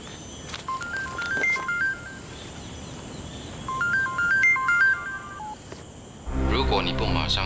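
A phone ringtone for an incoming call plays as two bursts of bright electronic melody over steady background noise, followed by a voice speaking at the end.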